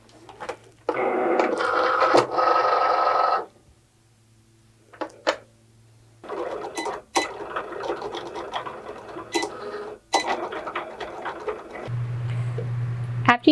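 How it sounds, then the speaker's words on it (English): A Cricut cutting machine cuts iron-on vinyl on a mat. Bursts of mechanical whirring and buzzing carriage motion come in separate runs, broken by a quiet pause, sharp clicks and a low motor hum near the end. "then we'll just add it to our machine and cut"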